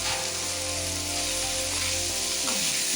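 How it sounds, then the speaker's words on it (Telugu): Capsicum pieces fry steadily in a pan with curry leaves for a capsicum curry, a loud, continuous dense sizzle filling the whole stretch with faint stirring scrapes near the end. "క్యాప్సికమ్ పీసులు ఇవైతే మంచిగా ఫ్రై చేసి"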